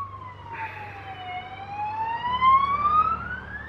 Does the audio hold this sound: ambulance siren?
yes